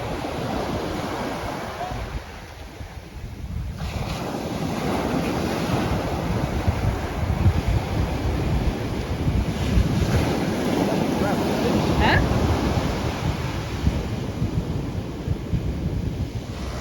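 Ocean surf breaking on a Florida beach, a continuous rolling wash of waves mixed with heavy wind buffeting the microphone, fairly loud and sustained throughout.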